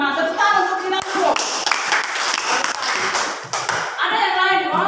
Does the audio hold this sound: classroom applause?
yes